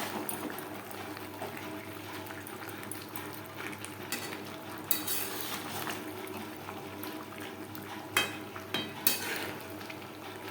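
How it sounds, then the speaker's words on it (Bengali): Fried boiled potatoes are mixed into cooked chicken for biryani, a low bubbling simmer with soft scraping stirs and a few sharper clinks of a spoon against the pot. "মাংসের সাথে আলু বেশ ভালো করে মিক্সড করে দেবো।"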